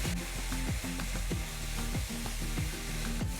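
Cauliflower rice cooks on medium-high heat in a pan, a dense steady sizzle broken by regular scraping stir strokes of a utensil against the pan, close and loud.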